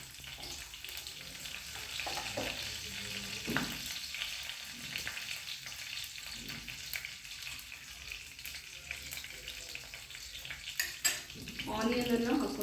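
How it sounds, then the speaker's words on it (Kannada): Mustard seeds and curry leaves sizzle and crackle in hot oil in a pan, a steady frying hiss with occasional pops and stirring clinks, close by, with some brief talk. "ಈಗ ಎಣ್ಣೆ ಬಿಸಿಯಾಗಿದೆ. ನಾವು ಫಸ್ಟು ಸಾಸಿವೆಯನ್ನು ಹಾಕೋಬೇಕಾಗುತ್ತೆ"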